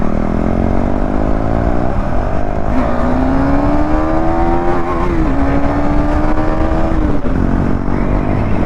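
Motorcycle engine on a Sunday ride with little petrol in the tank, a steady loud drone with a rising and falling whine of revving throughout, no talk.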